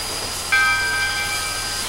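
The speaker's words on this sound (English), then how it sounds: "The 2719 is the first steamer to depart the roundhouse." Soo Line 2719, a 4-6-2 Pacific steam locomotive, departs the roundhouse; a high, steady tonal note suddenly sounds over a low background rumble and holds for more than a second, with no voices.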